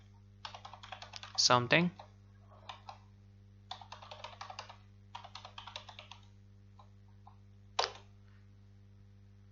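A password is typed on a computer keyboard during a Kali Linux setup, bursts of quick close key taps separated by pauses, with a brief spoken word partway through.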